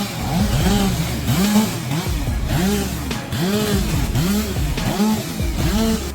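A two-stroke Stihl chainsaw at a wood-cutting competition revs loud and close in repeated rising and falling surges, roughly one swell per second, without a break.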